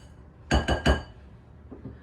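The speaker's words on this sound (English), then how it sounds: "you can take your spatula and just mix it together" A spatula mixing baking soda in a bowl for chocolate chip cookie dough gives three quick, close, bright clinks, then two fainter taps.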